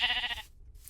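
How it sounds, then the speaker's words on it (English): A sheep bleats once in a Minecraft-style survival game, a short bright nasal cry fading quickly, followed by quiet game ambience. "we found a sheep, so we'll shear him first"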